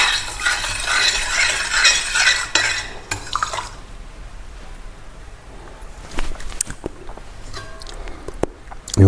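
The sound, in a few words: stirring and mixing chapati dough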